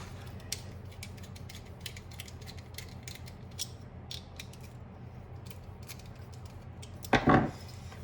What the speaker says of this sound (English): Screw your self tapper into the binder clip.